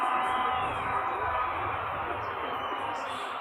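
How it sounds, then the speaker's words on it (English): A cricket crowd at the ACC Men's Premier Cup 2023 Nepal versus Kuwait semi-final lets out a sustained rising roar at an overthrow, heard from a distance, dense and continuous. "You can tell by the crowd's reaction."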